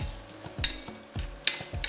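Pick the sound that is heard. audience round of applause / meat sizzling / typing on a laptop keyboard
meat sizzling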